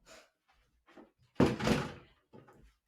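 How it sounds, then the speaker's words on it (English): An indoor door is pushed shut with one solid thump in a quiet room, between a few soft shuffling and handling noises. "I know, we'll shut the door."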